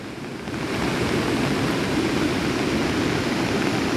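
A swollen river in Konkan runs after heavy monsoon rain, making a broad, steady roar of rushing water that swells in during the first second and then holds loud and unbroken.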